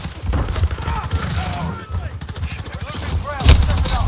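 Gunshots and bursts of automatic fire in Call of Duty Modern Warfare hardcore team deathmatch, close and punchy, with a sharp loud blast near the end and shouting voices mixed underneath.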